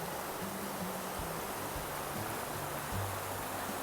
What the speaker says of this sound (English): let's take a look at this river. It's really beautiful.